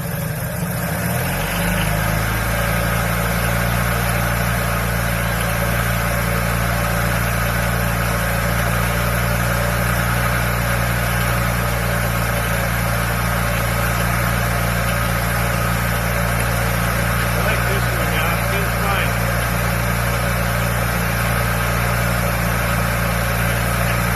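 Honda 600 sedan engine idling close up, a steady loud low drone with even harmonic throb that settles within the first couple of seconds and holds unchanged, no talking over it.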